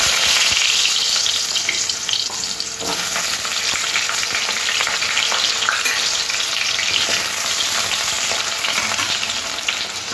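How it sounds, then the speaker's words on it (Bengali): Potato pieces fry in hot oil in a kadai, giving a loud, steady, dense sizzle that crackles evenly for the full stretch with no talking. "তেলটা গরম হয়ে গেছে, তেলের মধ্যে আলু টুকরোগুলো দিয়ে দেবো।"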